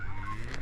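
Farm geese honk loudly and close by in a short burst of overlapping nasal calls.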